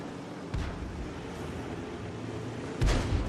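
A tank gun fires a round in a World War II tank video game, two heavy low booms about two seconds apart over a steady wash of battle noise, the second louder and closer.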